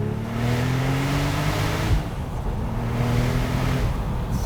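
A tuned Porsche 911 Turbo with a 6-speed manual roars loudly under hard acceleration, its engine note climbing in pitch, dropping briefly at a gear change near two seconds, then rising again.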